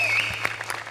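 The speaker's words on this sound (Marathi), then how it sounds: "मला उभं राहून टाळ्या वाजवायच्या आहेत." Studio audience applause on the Marathi comedy stage show Maharashtrachi HasyaJatra, a short burst of dense, steady clapping at moderate volume with no speech over it.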